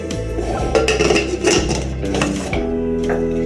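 A pressure cooker holding foxtail millet pongal is being closed, with metallic clanks and rattles of the lid against the pot over a low steady hum, close and fairly loud, and no talk.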